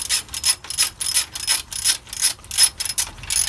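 Torque wrench ratcheting in quick, rhythmic bursts while tightening bolts with Loctite on a 4BT engine during valve lash setting, about eight loud clicky ratchet runs with no talking.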